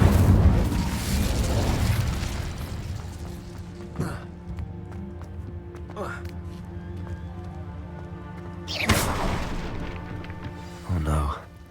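Fiery incendiary spell blasts in Hogwarts Legacy, a loud booming burst at the start followed by several sharper whooshing bursts, the strongest near the end, over steady game music and ambience.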